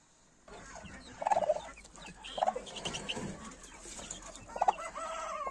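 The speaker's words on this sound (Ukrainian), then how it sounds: "Це моя скаженюча індичка" A turkey hen in a poultry yard gives several loud, harsh bursts of clucking and gobbling calls, with a shorter squawk and a final run of calls, all standing out over a steady background of other birds.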